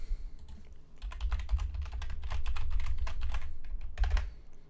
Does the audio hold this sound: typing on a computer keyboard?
yes